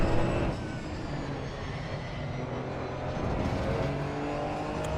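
Race car in the AC Evo driving game running over dirt, giving a loud, steady, dense rumble and road roar with engine tones that hold throughout and never break.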